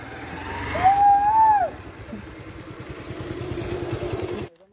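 A motorcycle on a ride gives a steady, low, pulsing engine putter, with a brief high whine early on, then cuts off abruptly at the end.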